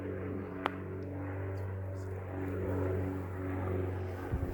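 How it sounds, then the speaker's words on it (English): An airplane flying overhead outdoors, a steady low engine drone that holds through the whole stretch and swells slightly toward the end, with no one talking over it. "Damn airplane! Damn you airplanes!"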